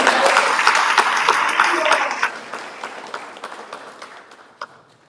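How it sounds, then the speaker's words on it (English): Audience applause at a devotional gathering in Durban, South Africa, loud and sustained clapping from a crowd, gradually tapering off over several seconds with a few lingering claps at the end. "So let's give a round of applause."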